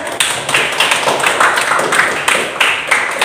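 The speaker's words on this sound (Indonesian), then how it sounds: "Baru tepuk tangan" Schoolchildren clap their hands in an Islamic studies class, a brisk cluster of close, sharp claps with a few louder accents, heard alone without talk.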